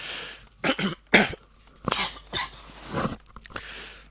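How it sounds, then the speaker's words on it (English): Several harsh coughs and throat-clearing bursts come in short irregular fits, close and fairly loud, with quiet breathing between them. "I've been coughing like mad"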